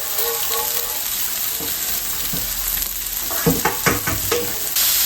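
Skewers sizzling on a grill while being basted with butter and olive oil, a steady crackling fry with a few louder spits and brush strokes, close and without talk.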